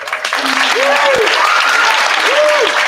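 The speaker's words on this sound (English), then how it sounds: "One last round of applause for our" Audience at a high school humanities symposium giving a steady round of applause, dense clapping throughout with a few voices rising over it.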